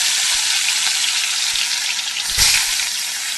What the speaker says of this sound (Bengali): আমার তেলটা গরম হয়ে গেছে আমি এখন এখানে মাছ দিয়ে দিলাম